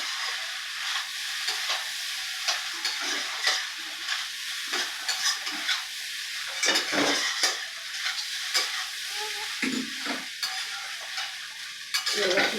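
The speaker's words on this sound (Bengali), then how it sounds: "এবার চিড়েটা দিয়ে দেবো। মিশিয়ে নেবো," Flattened rice (chira) being stirred into pulao in a pan, a spoon scraping and clinking in irregular strokes over a soft steady sizzle, close and clear, with no talk.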